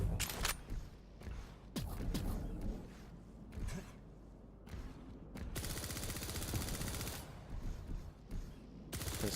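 Weapons fire in a Quake match, with the lightning gun and railgun in use: dense bursts of electric crackle and sharp gunfire-like shots in close, irregular volleys, loud and busy with little pause.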